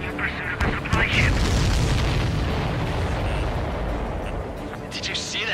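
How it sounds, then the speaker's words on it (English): A deep, rumbling explosion in the Ace Combat 7 flight combat game, a loud, sustained boom rolling over steady jet and engine noise for several seconds. "Did you see that explosion?"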